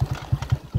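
A motorcycle carrying three riders moves slowly in low gear over a rough, dirty road, its engine thumping in loud, regular low pulses close by, with no talk.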